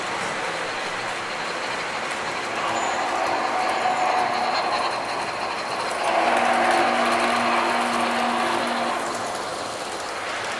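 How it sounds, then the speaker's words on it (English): An Illinois Central model freight train runs along a home layout with a snow village scene, a steady close mechanical whir and rattle of wheels and gears that swells slightly as it passes. "Here comes the Illinois Central Freight Train."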